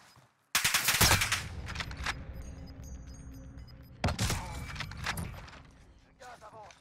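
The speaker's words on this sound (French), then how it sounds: "C'est moi ou il y a un autre mec qui tire?" Gunfire in a video game, heard as loud bursts of shots in two clusters separated by quieter stretches, with a faint high electronic tone in between.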